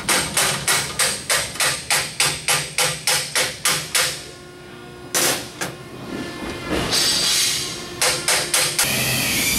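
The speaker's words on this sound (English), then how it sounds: "you'll also have to tap it on" Hammer tapping a 3/4 inch coupling hub onto a keyed shaft, a quick run of a dozen sharp, evenly spaced metallic knocks, then a pause with a scraping slide and a final short burst of taps.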